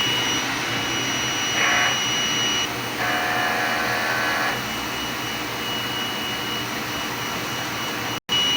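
A sublimation printer at a print shop runs its head clean cycle, giving a steady mechanical whir and hum that holds level for several seconds, with one brief break near the end.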